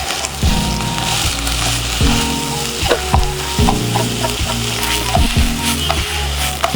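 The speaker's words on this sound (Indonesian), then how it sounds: "kita sekarang masukin ayamnya ya." Chicken pieces fry loudly in oil with onion and garlic, a dense constant sizzle with repeated scraping and clattering of a utensil stirring in the pan, close and without talk.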